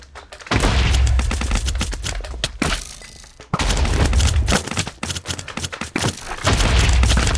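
Rapid bursts of gunfire from Blitzkrieg ammo in the video game More Planets, loud repeated shots and booms in dense volleys broken by two short pauses, with no talking.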